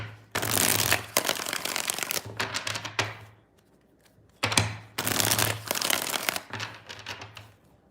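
A deck of tarot cards riffles and slaps in several close, vigorous shuffling bursts separated by brief lulls, one longer gap near the middle.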